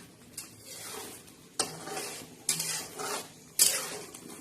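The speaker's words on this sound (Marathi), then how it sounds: "अजून मसाला छान असा परतून घ्यायचा" Masala being sautéed in a pan for a spicy fish curry, with a soft sizzle under four sharp scrapes and clanks of a spoon stirring against the metal.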